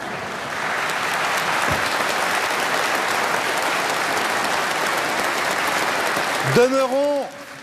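A church congregation at a Sunday Mass in Lunel, France, applauds steadily for several seconds, a dense even clatter of many hands, before a voice begins singing or chanting at the end.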